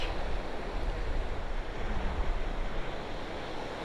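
Waves wash steadily onto Ingoldmells Beach at a UK seaside resort, a continuous soft roar of surf mixed with wind noise, with no voices.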